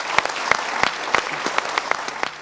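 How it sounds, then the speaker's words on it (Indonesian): A studio audience at a motivational talk show applauds, with a few distinct sharp claps standing out in a steady rhythm over a softer wash of clapping. "kita berikan tepuk tangan dulu"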